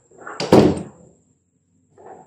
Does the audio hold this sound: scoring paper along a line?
no